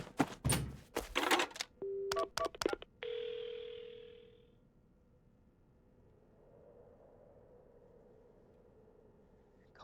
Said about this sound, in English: Phone. Right, the phone! I've got to call an ambulance.